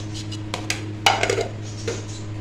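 Chopped beetroot and sliced carrot tipped into a container for a kanji drink, giving a few sharp clatters and knocks against the vessel over a low steady hum, close and alone.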